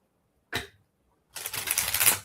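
A short riffle of oracle cards, then a longer, dense ruffling burst of the deck being shuffled, close and crisp, with no talking.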